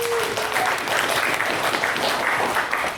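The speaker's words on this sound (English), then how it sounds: "Give him a round of applause, please." Applause from a crowd at a Comic Con panel in Portsmouth: a continuous, fairly loud wash of clapping that holds steady for a few seconds with no talking over it.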